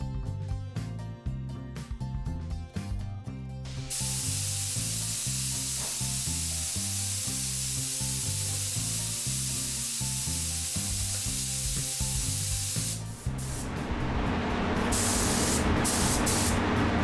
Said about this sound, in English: I'm now going to thin this ground coat out so it'll go through the spray gun efficiently